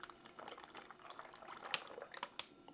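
Blood orange syrup made from sugar dissolved in juice trickles as it is poured, a faint, soft liquid stream with small splashy ticks and no talking.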